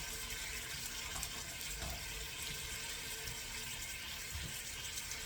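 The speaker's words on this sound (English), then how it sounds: "I'm still draining the water off the cabbage." Water draining off boiled cabbage, a steady broadband rush and splash of running liquid, continuous and fairly close with no voices.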